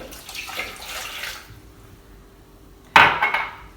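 Warm water poured into a food processor bowl makes a brief splashing trickle that fades out, followed after a pause by a sharper burst of splashing and knocking.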